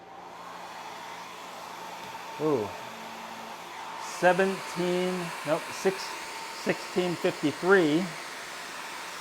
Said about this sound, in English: We'll go ahead and turn the hairdryer on to high.